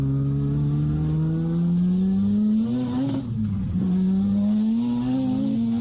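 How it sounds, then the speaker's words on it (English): Mazda RX-7 with a bridgeported rotary engine on mild boost, revving loudly and close, a raspy drone that climbs in pitch, dips sharply on a throttle blip, then climbs again. "for me to say this is the loudest car we've ever had, it's got to be pretty loud"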